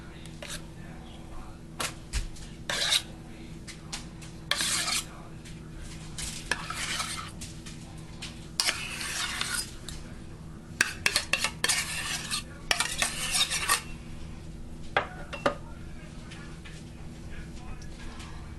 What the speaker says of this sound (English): I'm just going to gently spread the sour cream out as evenly as possible